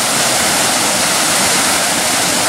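A small unnamed waterfall on Pounder Branch along the Sheltowee Trace, swollen after a full day of rain, roars in a dense, steady rush of falling water that stays constant and close throughout.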